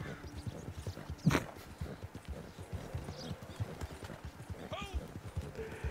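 A horse gallops in a video game, its hoofbeats clip-clopping in a steady, busy rhythm beneath near, continuous conversation and occasional laughter.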